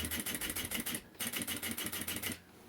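Sewing machine stitching bias binding along the edge of a plastic panel over a zipper, a rapid steady mechanical rattle with one short pause before it resumes, then slows near the end.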